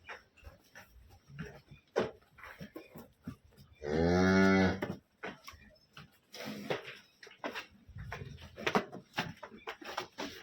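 Jersey and HF cross calves on a farm: one loud, drawn-out moo about a second long stands out close by, amid scattered shuffling, thumps and other farmyard noise.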